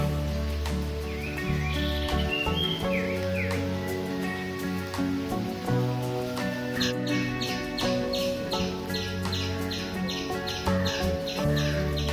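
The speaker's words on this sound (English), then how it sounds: "did you hear those bird sounds?" Birds chirp and tweet repeatedly at a rainy jungle resort in Madikeri, Coorg, over a steady background of music-like tones, with bright short calls clustering in the second half.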